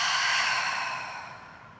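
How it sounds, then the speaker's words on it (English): A long, breathy exhale through the mouth during a yoga class, close and clear, slowly fading over about two seconds with no talking. "Great big inhale. Great big exhale through the mouth."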